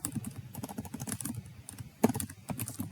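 Close, quiet typing on a computer keyboard: a brisk, uneven run of light key clicks with one sharper tap near the end and no talking.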